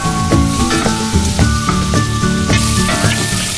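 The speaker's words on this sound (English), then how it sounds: "add your onions, a little oil and some salt. We're going to soften the onions, we don't want them to change colour, so keep them moving." Onions with a little oil and salt soften in a pan for broccoli and Stilton soup, a loud, constant bright sizzle with no voices, while steady rhythmic music plays over it.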